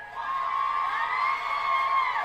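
A crowd at an abortion rights gathering cheers and whoops loudly and steadily, with high shouts rising above the roar for a couple of seconds before a sudden cutoff.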